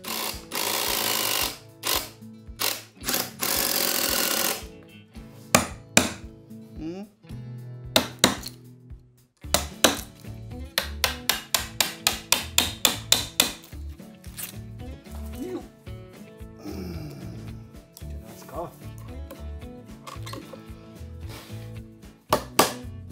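A woodworker cuts and fits a socket joint in 200-year-old Kiso cypress for a floor table. Sharp, close knocks and rasping strokes come in bursts and rapid clusters of taps, with brief pauses between them.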